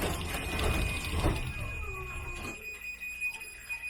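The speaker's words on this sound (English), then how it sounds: "There's that beeping sound, so that means it's now about to close." A MyQ smart garage door gives a thin, steady warning beep before it closes, fairly faint among light mechanical sounds and thumps.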